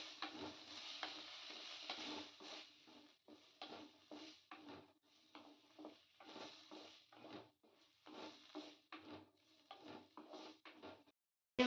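Large-cut onions and two tomatoes sautéing in a pan for roadside-style bhel, a steady sizzle broken by repeated stirring strokes and scrapes, close and moderately loud with no talking.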